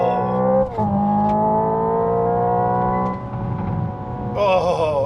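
A Hyundai Ioniq 5 N electric car accelerates with a loud, steady synthetic engine drone that steps up through shifts, ending in a warbling gurgle, with no talk.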